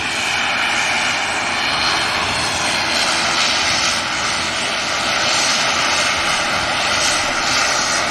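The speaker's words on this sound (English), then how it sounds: "We also have this Aer Lingus regional aircraft." An Aer Lingus regional aircraft's engines at Manchester Airport give a loud, steady propeller-engine roar and whine that holds evenly throughout with no pauses, heard alone without talking.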